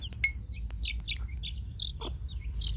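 Ornamental hens feeding on a grain mix at their morning release, giving soft clucks and brief chirpy calls close by over a steady low background rumble, with no talking.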